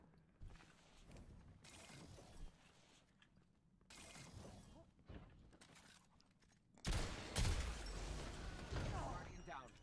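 Bursts of gunfire in a competitive video game shooter, sharp crackling volleys under and between excited players talking over voice chat, with a louder, denser burst near the end.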